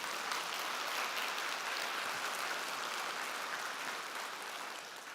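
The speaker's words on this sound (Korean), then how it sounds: "믿으시면 박수 한번 쳐주십시오." An audience at a special lecture claps on request, a faint, even wash of many hands clapping that continues steadily throughout without speech over it.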